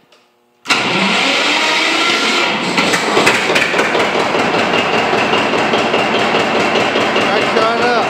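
A John Deere 820 tractor engine cranks on its starter and catches, settling into a loud, steady running roar after a brief quiet moment, with knocking mechanical rattles over the continuous drone.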